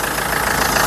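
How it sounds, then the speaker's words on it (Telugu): A 2016 Mahindra XUV500 W8 engine idles with a steady, loud, even rumble, heard alone without voices. "ఇంజన్ యొక్క నాయిస్ కూడా పర్ఫెక్ట్గా అయితే ఉందండి"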